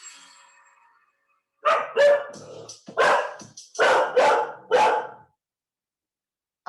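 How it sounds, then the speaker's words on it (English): Dog barking indoors, a short run of about five loud, sharp barks in quick succession after a brief quiet pause, close to the microphone with no talking. "my dog has decided that he wants to join the party right now"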